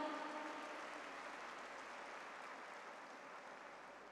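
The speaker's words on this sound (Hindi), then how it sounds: "इसके लिए जोरदार ताली बजाइएगा" A faint, continuous wash of audience applause at a national women's parliament event, steady throughout and slowly fading.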